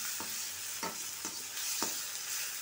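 Onions and garlic sauté in a pan under a steady bright sizzle, with four quick spatula stirs scraping through at regular intervals, close and without voices.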